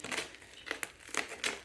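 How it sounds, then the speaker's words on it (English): Plastic packet for an electric scooter unboxing being cut open with scissors, a short run of close crinkling rustles and a few sharp snipping crackles. "Cutting open the packet"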